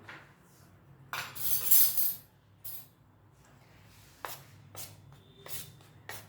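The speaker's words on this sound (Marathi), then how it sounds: "चमच्याने हलवून घ्यायचे" A spoon stirring a hot ghee mixture for modak dough, scraping and clinking against the bowl in scattered strokes, with one longer rustling, swishing stretch early on.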